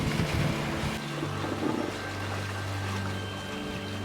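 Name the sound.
sailing boat moving through water at night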